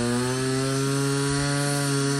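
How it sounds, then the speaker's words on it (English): A chainsaw mills a log into boards for shelving, running at steady high revs with a strong, unbroken engine drone and a harmonic whine that stays constant throughout. No voices break in. "He is chainsaw milling"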